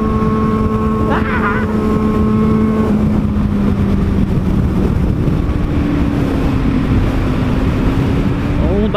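A Yamaha XT660 motorcycle drones along on a group ride with sport bikes toward São Roque, its engine tone rising and shifting under heavy wind roar, with a voice speaking briefly over the noise.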